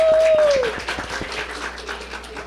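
Crowd applause and cheering at a Women's Day gathering, scattered claps and whoops rising loud at the start then settling into steadier clapping, with a brief whistle-like tone early on.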